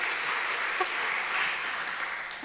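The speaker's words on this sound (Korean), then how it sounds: "박수 한번 칩시다." Audience applause at a Korean church family seminar, a steady broadband wash of clapping from a crowd, moderately loud and continuous throughout with no voices over it.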